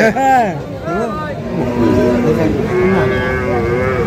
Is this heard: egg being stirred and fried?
no